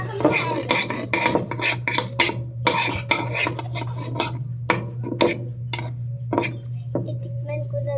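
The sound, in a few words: cooking ginamos (fermented fish paste) with utensils and pots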